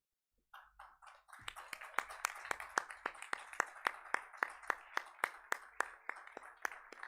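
Clapping at a college best-speaker prize ceremony, a few soft claps that build into a steady, evenly spaced run of loud, sharp claps close by, with no talking.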